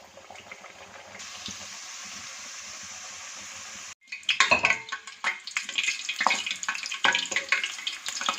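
Puri dropped into hot oil for halwa puri breaks into a loud, crackling fry after a steady hiss, bubbling busily close up with no voices.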